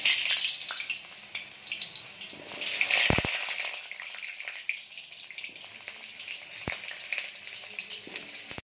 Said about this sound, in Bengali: এবার আমরা আলুগুলো ভেজে নেব।